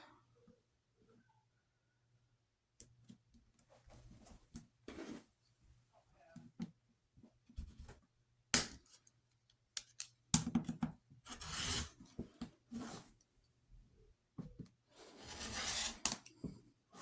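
A rotary cutter slices through quilting fabric as half square triangles are trimmed to 4.5 inches with a slotted trimmer, leaving short scraping cuts and rustles separated by quiet pauses, up close and fairly soft.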